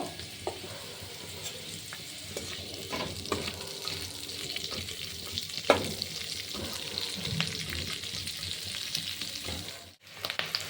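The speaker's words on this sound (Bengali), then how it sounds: "পেঁয়াজ কলিগুলো হালকা নেড়ে নেব।" Spring onion greens fry in a pan for a Bengali fish dish with a continuous close sizzle, broken by scraping and clattering stirs from a spatula and a brief hush near the end, with no voices.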